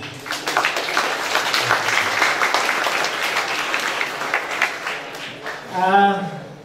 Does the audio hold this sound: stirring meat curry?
no